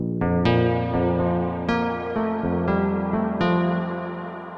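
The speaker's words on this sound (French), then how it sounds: "Regardez quand je rajoute de la reverb." A synthesizer with an 8-pole filter plays a series of bright, sustained harmonic notes, each one ringing out into a lush reverb tail that overlaps the next. The notes are loud and close, with no voices.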